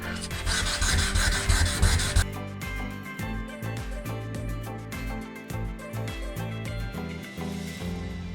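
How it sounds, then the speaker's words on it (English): An epoxy resin surface is sanded by hand with sandpaper wrapped around it, producing a continuous close, loud rubbing rasp in quick repeated strokes. "I can just wrap it round and sand it like that"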